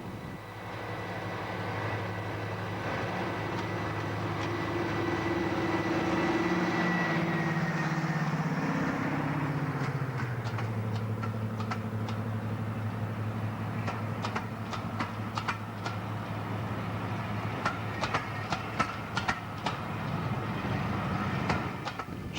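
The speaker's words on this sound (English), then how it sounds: "It is seen here arriving at Orton Mere with a rail tour from King's Cross" Deltic D9000 Royal Scots Grey diesel locomotive arriving at Orton Mere with a rail tour train from King's Cross, a loud sustained engine drone that shifts pitch as it passes, followed by rhythmic wheel clicks over rail joints.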